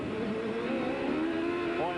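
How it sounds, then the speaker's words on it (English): Onboard sound of Michael Andretti's 1995 CART race car at Surfers Paradise, a high whining engine and noisy gearbox rising and shifting through gears, steady and close, with a commentator talking over it. "Boy, that gearbox is noisy."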